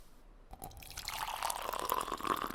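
Hot water poured into a cup, a quiet trickling stream that starts faint and then grows into a steady rising fill.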